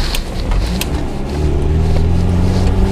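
An FSO Polonez with rear-wheel drive rolls through curves, its engine humming in a steady, close in-cabin drone that grows slightly louder partway through, with no talk.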